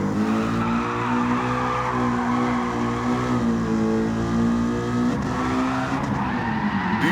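Race car in Gran Turismo 7 bobbling over the track, its engine roaring steadily with tire squeal and skidding layered in, loud and continuous, with a sharp bump near the end.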